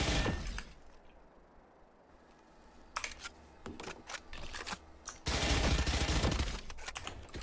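Bursts of rapid gunfire from the Spectre submachine gun in Valorant, fired in several separate volleys with a sustained loud burst toward the end, alternating with quieter gaps.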